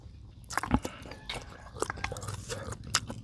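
Whole egg squid is chewed close to the mic, with wet biting and squishy chewing sounds in uneven bursts, quiet overall.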